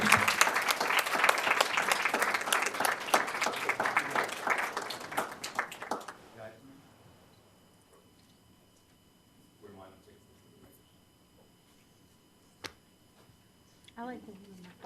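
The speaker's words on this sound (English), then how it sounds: "Please join me in giving them a round of applause" A council chamber audience gives a round of applause. The dense, loud clapping lasts about six seconds and then stops abruptly, leaving a quiet room with a few faint voices and a single sharp knock.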